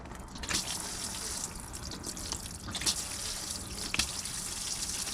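Coolant drains from a Nissan 350Z into a bucket, splashing and dripping steadily at close range for the whole stretch, with no talking.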